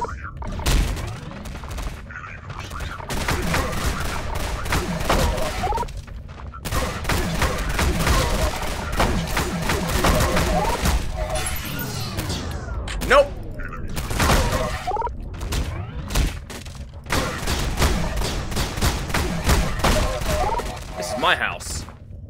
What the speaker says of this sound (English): Is that a rifle?